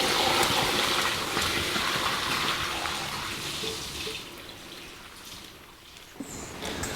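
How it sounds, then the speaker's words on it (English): Rinse water drains out through a drain tube after its plug is pulled, heard as a steady close gushing flow that slowly weakens, with a brief knock near the end. "I have a plug inside this drain tube that I pull out, and it'll let the water drain out."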